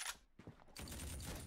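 Pistol gunfire in the video game 7554, a few sharp broadband shots: a burst at the start, a gap, then a dense sustained volley of loud fire that fills the second half.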